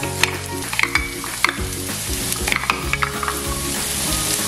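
Onion sautéing in a pan for a quick tuna pasta, a steady close sizzle with repeated scraping stir strokes and clinks of a utensil against the pan, no voices.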